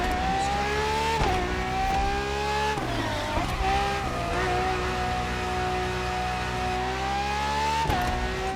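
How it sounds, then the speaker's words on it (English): A Ferrari FXX K supercar in the racing game The Crew Motorfest revs loudly, its high engine note rising and dropping sharply through gear changes, with brief tire squeal and no talk over it. "you'll be driving the FXXK"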